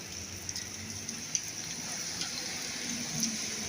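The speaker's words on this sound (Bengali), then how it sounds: "কি পরিমাণ বৃষ্টি হইতেছে।" Heavy rain pours steadily onto a flooded road with water standing in it, a soft even hiss and patter with faint splashes, no talk.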